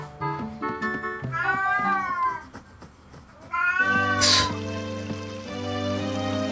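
A cat in Ocarina of Time meows loudly several times, drawn-out wavering cries over game music with a trickle of water in the background.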